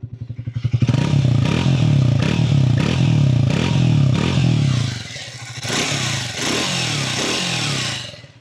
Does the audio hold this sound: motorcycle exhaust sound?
yes